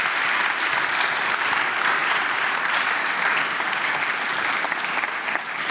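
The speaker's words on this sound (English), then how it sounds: "Can we just give him a round of applause," Audience applause fills a university vespers gathering, a loud, steady wash of clapping that holds evenly throughout without any voices over it.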